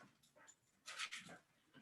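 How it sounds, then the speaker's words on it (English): Dogs being let out on a ten-acre rural property give a short burst of whimpering and panting, faint and brief, with quiet background around it. "We'll let these dogs out."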